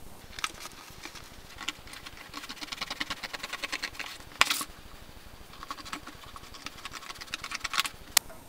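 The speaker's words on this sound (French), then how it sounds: "Je prends une paire de ciseaux et je vais découper autour du carter" Scissors snip through a cardboard gasket cut around an engine casing, making quiet, rapid crunching clicks in short runs with a few sharper snaps.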